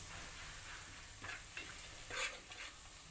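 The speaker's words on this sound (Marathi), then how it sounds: "ते टाकून घेते ते चांगलं परतून घ्यायचं खमंग असं" Spices for khendat sauté in a hot pan with a continuous close sizzle, broken by a few scraping stirs and one louder crackling burst; no talking.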